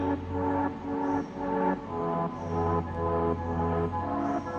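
Upbeat royalty-free instrumental music with a full, steady beat plays continuously from MacBook Pro M1 laptop speakers, moderately loud with nobody talking over it.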